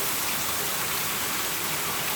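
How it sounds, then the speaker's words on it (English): Rain pours steadily on a Florida fall day, a dense, even hiss of falling water on surfaces, continuous and fairly close with no voices. "I just love the rain."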